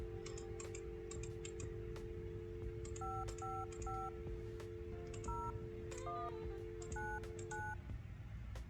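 A telephone number is dialed in the Fear the Spotlight video game, with a series of paired DTMF keypad tones in quick groups over a faint steady hum and light clicks, no talking.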